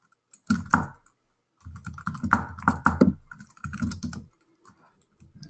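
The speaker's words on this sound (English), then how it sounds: "I can type in title." Typing on a computer keyboard at close range, with irregular bursts of quick key clacks separated by short pauses, steady and alone.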